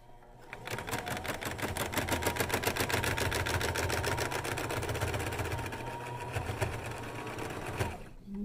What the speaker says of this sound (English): my sewing machine is loud because I need to clean it out